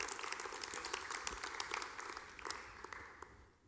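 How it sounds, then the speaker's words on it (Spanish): A church congregation claps together during a service, a dense, fairly faint patter of applause that tapers off in the last moment. "Le da ese aplauso fuerte."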